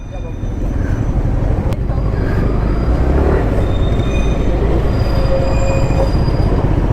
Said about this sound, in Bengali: দেখো রংটংয়ের সামনে টয় ট্রেন দেখতে পেলাম